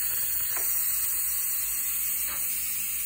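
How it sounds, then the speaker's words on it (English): Steam vents from a pressure cooker release valve in a steady loud hiss, continuous and close, with a couple of faint clicks over the constant rush. "So that is releasing the steam."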